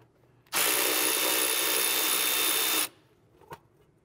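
A power driver removes a T25 screw from the fan shroud bracket of a Porsche 996 911. It gives one loud, steady whir of just over two seconds, then stops, followed by a faint click.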